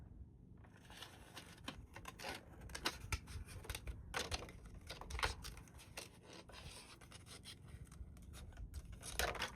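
Scissors snipping through paper during a Halloween papercraft project, quiet close-up crunching cuts in an irregular run of short strokes, with no talk.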